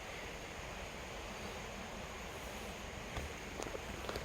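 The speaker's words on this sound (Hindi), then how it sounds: "देखो यहाँ नज़दीक में एक नदी भी बहती है।" A river flows steadily in Gir Forest near Junagadh, giving a constant soft wash of rushing water with a faint breezy hiss, distant and even throughout, with a few light ticks near the end.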